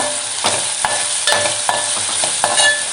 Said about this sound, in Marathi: आणि हे सगळं आपल्याला मिक्स करून घ्यायचं आहे.